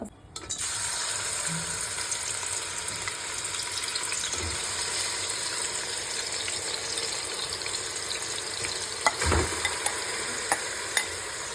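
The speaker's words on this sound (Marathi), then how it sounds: "आता आपण हा कांदा टाकलेला आहे, सो हे चांगलं मस्त लाल परतून घेऊया." Onion fries in a mix of oil and ghee for prawn biryani, making a steady, moderate sizzle with a few spoon knocks and scrapes against the pot.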